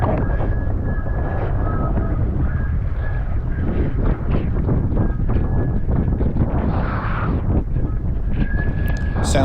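Steady, loud wind roar buffets the microphone while a rider on a SUP hydrofoil runs straight downwind on open ocean at Maliko, a continuous rushing noise with no talk.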